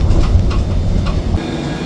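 Rolling rumble of a Paris tram in motion, loud and steady, with faint rattles before the noise eases slightly near the end.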